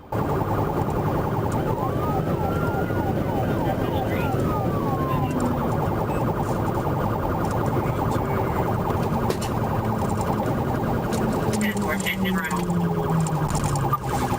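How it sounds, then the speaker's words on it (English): A police car siren wails and sweeps up and down during a high-speed pursuit over steady road and engine noise, with radio chatter underneath and a second siren tone joining near the end. "I activated my emergency lights and sirens and began pursuing the suspect vehicle."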